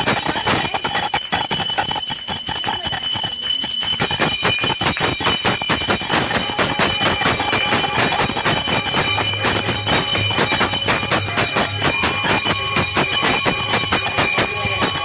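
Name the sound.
temple bells rung for Janmashtami celebration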